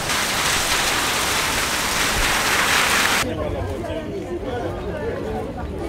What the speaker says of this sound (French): Par contre, il y a de la pluie.